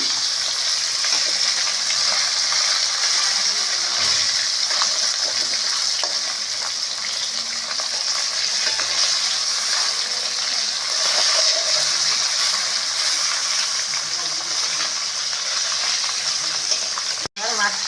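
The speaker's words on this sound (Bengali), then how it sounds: "মাছটা খুব বেশি ভাজবো না হালকা করে ভাজবো" Continuous sizzling and spitting of koi fish (climbing perch) frying in hot oil, steady and close, with one sharp click near the end.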